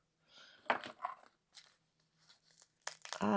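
Quiet, intermittent crunching and scraping bursts from dried vintage Winsor & Newton jet black gouache paint being worked up close, irregular and brittle, with pauses between.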